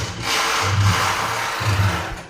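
A Samsung washing machine, just repaired after a no-power fault, starts up with a low motor hum that swells in two short pulses over a steady background drone, fairly close and with no talking.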